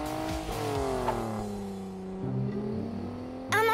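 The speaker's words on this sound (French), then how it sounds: "ils sont interrompus par deux voitures qui font la course" Cartoon race cars speed past with rising and falling engine whines and revs, a brief tire-squeal-like sweep, and a sharp burst of noise near the end.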